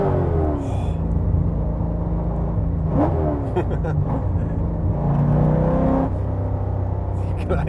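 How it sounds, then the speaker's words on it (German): A Subaru BRZ with an LS3 V8 swap rumbles loudly from inside the cabin as it accelerates on the road, engine note rising and falling, with people talking over it. "wenn du jetzt Gas gibst"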